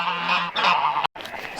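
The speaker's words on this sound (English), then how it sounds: "Hey ducks, hey geese." Several geese honk loudly and close by in short, repeated nasal calls, broken by a brief silence before more honking, with no talk.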